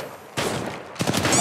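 Enemy gunfire in Apex Legends Mobile, two short loud bursts of rapid shots separated by a brief lull, close and sharp against the game's background sound.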